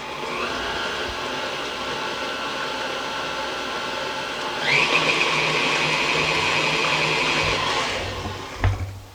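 An electric mixer whirring steadily as it beats an egg into cheesecake batter, a loud continuous motor whine that rises in pitch midway and runs on before a brief clunk near the end, with no talking.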